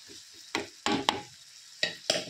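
Prawns fry quietly in a pan, with a soft, low sizzle broken by about five sharp scraping or turning strokes spaced unevenly through the moment.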